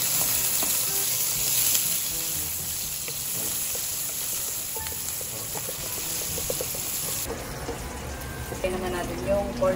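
Onions fry in a pan as the first step of corned beef with potatoes, a steady close sizzle lasting throughout, with faint voices now and then.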